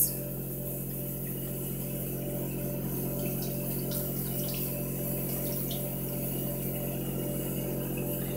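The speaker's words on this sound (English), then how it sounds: "Now there's still some soap, so I'm gonna just continue to rinse." Tap water runs steadily at moderate level, rinsing leftover soap from a Sigma Spa brush cleaning glove, a continuous even stream with a low pump-like hum beneath and occasional small splashes.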